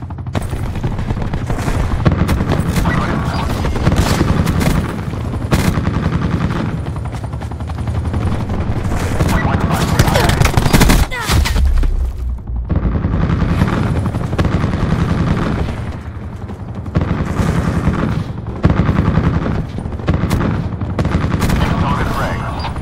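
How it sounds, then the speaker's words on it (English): An attack chopper in Call of Duty: Black Ops 4 gives a steady, loud rotor drone, with bursts of rapid gunfire and occasional booms layered on top throughout. "assign attack chopper on my grid"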